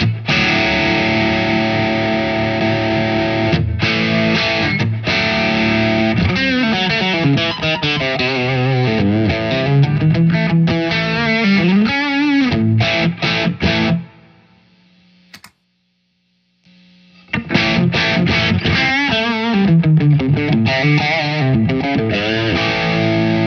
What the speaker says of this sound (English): First, let me kick on the overdrive, turn on the compressor before and after.